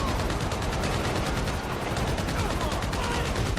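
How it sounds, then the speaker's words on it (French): Rapid machine gun fire in the video game GTA V, a dense continuous rattle of shots, loud and unbroken across the whole stretch with nothing else audible. "D'accord, directement la mitrailleuse."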